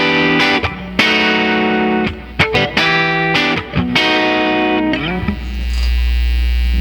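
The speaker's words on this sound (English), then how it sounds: "and Fender Deluxe Reverb emulation" An electric guitar plays through a Line 6 HD500 multi-effects unit set to emulate a Fender Deluxe Reverb amp, giving loud, sustained chords and single notes with slight grit and a hum beneath.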